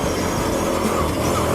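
A 2013 Kawasaki Brute Force 750 4x4i EPS ATV climbing a hill, its engine giving a steady, loud, close-up drone that holds throughout, with no talking.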